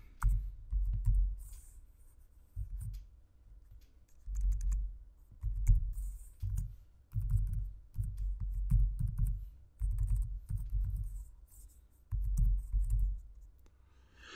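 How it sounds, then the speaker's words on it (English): Bursts of quiet, close typing on a computer keyboard as email addresses are entered, the soft rhythmic key clicks coming in short clusters separated by brief pauses. "then you would type in people's email address"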